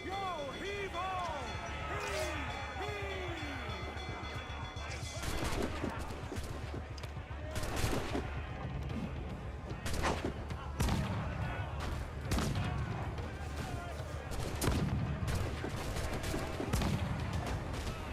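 Ship cannons firing in an Assassin's Creed pirate game, several heavy booms spaced a few seconds apart over constant sea and crew noise, with people talking and calling out between shots.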